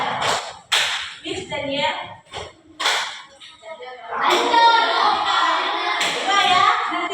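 Children in a classroom play a concentration clapping game, with sharp rhythmic hand claps in short bursts among lively young voices and an adult speaking.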